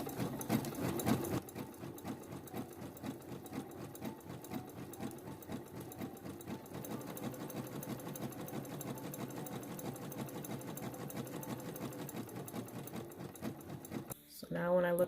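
Sewing machine running a zigzag stitch to finish a seam edge, a fast steady mechanical rattling hum that is close and continuous for most of the clip before stopping near the end.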